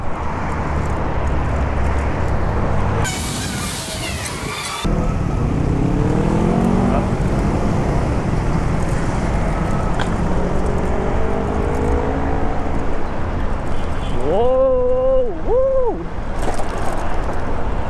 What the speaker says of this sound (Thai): ตอนนี้อัตราเร่งพุ่งสุดๆครับ เกียร์หนึ่งนะครับขึ้นไป 40 แล้วบิดแป๊บเดียว เกียร์สามแล้วนะครับ